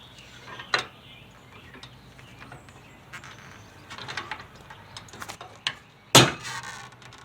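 A Fulton boat trailer winch clicks as it is released, giving a few scattered ratchet ticks and small mechanical knocks up close, with one sharp louder clack near the end.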